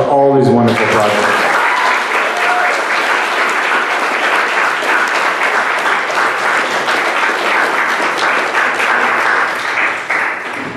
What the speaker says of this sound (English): Let's give one more big round of applause for all these wonderful projects.